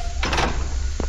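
A door in SCP Containment Breach sliding open, a short whooshing scrape followed by a soft knock as it stops, close and clear.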